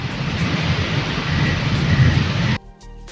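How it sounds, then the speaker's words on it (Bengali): Loud, steady rain with deep thunder rumbling beneath it, cutting off abruptly near the end. "এখনো যা মেঘ ডাকছে, অবস্থা খারাপ।"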